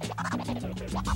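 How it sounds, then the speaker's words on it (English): A DJ works a record on a turntable with a fast crab scratch, producing quick chattering bursts of warbling, pitch-shifting tone in a tight rhythm for about a second. "All right, these are crab tears."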